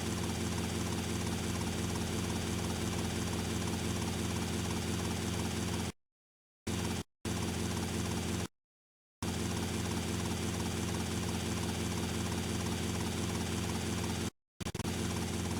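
Steady, droning helicopter rotor and engine hum in the video game Grand Theft Auto: Vice City runs continuously at moderate volume, broken by a few brief dropouts into silence.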